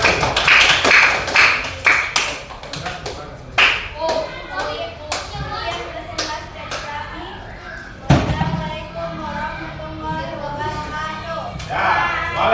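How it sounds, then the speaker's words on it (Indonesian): Pupils in a classroom clap for a presenting group, a quick burst of handclaps with a few sharp slaps, followed by children's and a teacher's voices talking, then a brief second round of clapping. "tepuk tangan dulu untuk kelompok"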